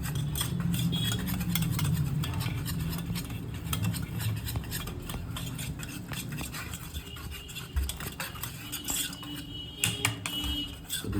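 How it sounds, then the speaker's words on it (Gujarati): A spoon stirs and mixes semolina dhokla batter with oil, ginger-chili paste and sugar in a bowl, making continuous quick scraping and clicking against the sides, fairly close and steady. "હવે આપણે બધું મિક્સ કરી લઈશું"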